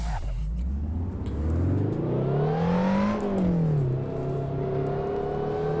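Lotus Elise engine in the racing game Assetto Corsa, revving up through the gears with a rising whine, easing off briefly, then climbing again as the car pulls away, steady and close with no talking.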